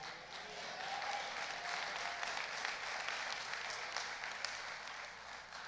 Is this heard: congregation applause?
yes